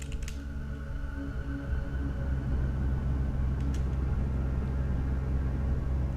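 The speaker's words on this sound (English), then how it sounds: "Start engines." Ship engines start up in Vampire the Masquerade Bloodlines, a steady low rumble that builds after a couple of seconds and then holds loud and continuous, with a few faint clicks near the start.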